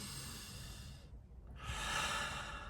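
Slow, deep breaths taken close to the microphone: a long airy inhale, a short pause, then a fuller, louder exhale, with no talking.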